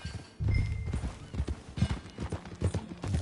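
Steady clip-clop of horse hooves on hard ground in the video game Red Dead Redemption 2, a brisk repeating rhythm close by, with faint background ambience.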